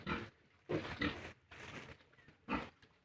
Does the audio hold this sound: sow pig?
yes